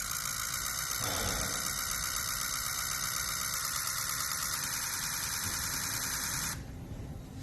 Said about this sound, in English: Do a couple key cycles and then we'll get to cranking.